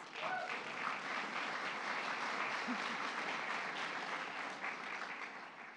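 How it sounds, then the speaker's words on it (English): Sustained audience applause at the White House Tribal Nations Summit, a dense, steady wash of many hands clapping at even loudness for several seconds with no speech over it. "Yes, you can applaud."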